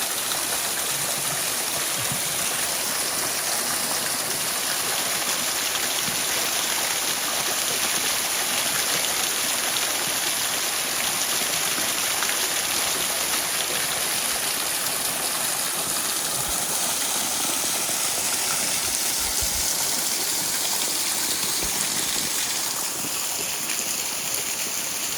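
Rushing water from a waterfall on the La Cloche Silhouette Trail, a steady broadband roar that holds loud and close for the whole stretch with no talk over it.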